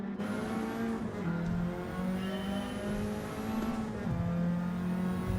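Race car engine in a driving video game, revving steadily with rising and falling pitch as gears change, loud and continuous throughout.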